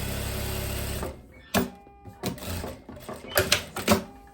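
Sewing machine stitching a linen strap, heard as a few short, separate bursts of stitching with pauses between them, fairly close and alone after a steady opening hum.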